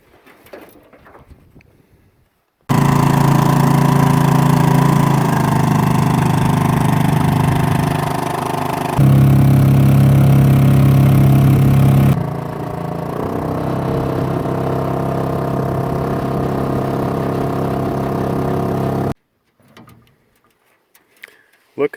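A small 5-horsepower outboard boat motor starts abruptly and runs with a steady droning buzz for several seconds, shifting pitch twice before cutting off, with birds faintly audible around it.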